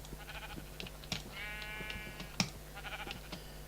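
Several sheep bleats in a video game, a wavering harmonic cry in the middle standing out over steady background game sounds and a few short clicks and thumps.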